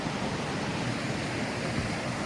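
Water flowing at Jawar waterfall in summer, a steady broadband rush with no breaks, loud and close, dense and unvarying throughout.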